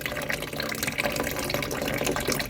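Water running continuously in a leaking toilet cistern with a faulty flapper, a steady close hiss and trickle with small bubbling drips throughout and no talk.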